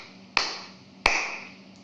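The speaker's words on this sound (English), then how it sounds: "let me also clap my hand." Two sharp hand claps heard through hearing aids in a reverberant room, each a crisp loud snap followed by a noticeable echoing decay, about three-quarters of a second apart.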